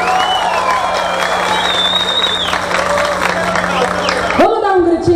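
Crowd applause and cheering at a live samba show in Campo Grande, loud and steady under ongoing sound with a tonal musical line, cutting off near the end as a voice comes in.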